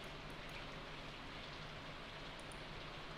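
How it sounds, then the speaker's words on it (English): Steady rain falls in the farming video game Stardew Valley, a soft continuous hiss of drops with a faint tonal hum beneath, evenly loud throughout with no talk. "It's raining anyways."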